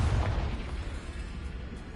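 The Confringo blasting spell going off in Hogwarts Legacy, a single booming explosion with a heavy low rumble at the start that decays into a rolling tail.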